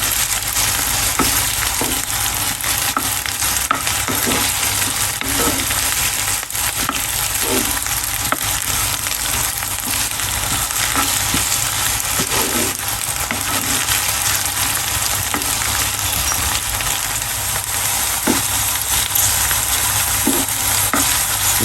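Okra (bhindi) fries in oil with a loud, constant, close sizzle that runs unbroken throughout, with faint soft knocks of stirring underneath.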